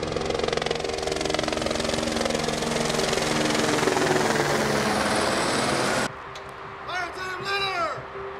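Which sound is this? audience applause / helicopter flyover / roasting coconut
helicopter flyover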